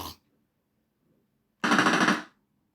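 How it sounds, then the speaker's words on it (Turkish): A toy gun fires one short rapid burst of clicking rattle, close and loud, after a brief earlier snap, with quiet in between. "Oyuncak tabanca şey."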